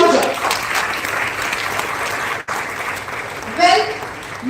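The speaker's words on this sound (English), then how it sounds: "The round of applause should be louder." Loud, continuous applause from a crowd at an oratory contest inauguration ceremony, even and sustained, with a voice briefly audible near the end.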